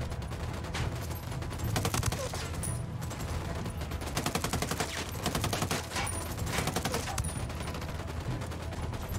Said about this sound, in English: where did that shot come from?